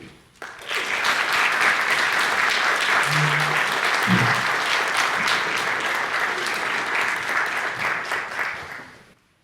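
Sustained applause from a lecture audience welcoming a speaker, a broad steady clapping roar lasting several seconds before fading out, with a brief voice underneath.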